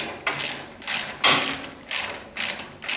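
A ratchet clicks rapidly in short bursts while sway bar bolts are tightened on a 1976 Corvette restomod, with about six close, evenly spaced rounds of dry ratcheting separated by brief pauses.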